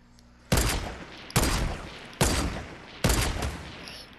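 Four sharp gunshots from Fortnite, spaced evenly under a second apart, loud and close, each ringing out briefly before the next.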